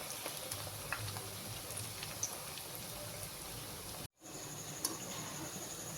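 Rava and potato snacks deep-frying in hot oil over a medium flame, a steady close crackling sizzle with dense bubbling that runs throughout, briefly cutting out for a moment before resuming.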